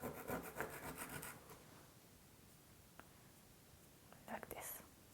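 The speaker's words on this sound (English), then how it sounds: "Or if you just want the tip of it to go away, with the sand block," Pencil tip rubbed on a sand block to sharpen it, soft scratchy rasping strokes close by at the start and again briefly near the end, with a quiet voice over a hushed background.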